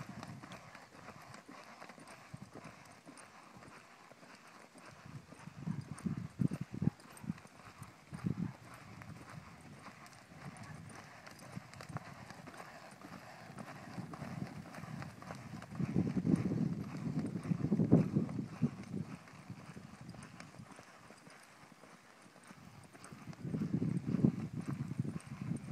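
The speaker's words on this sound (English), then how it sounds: "He looks like he's a smooth lope there." Horse hooves clip-clopping at a smooth lope, rhythmic bursts of muffled footfalls that swell around mid-clip and again near the end over low background noise.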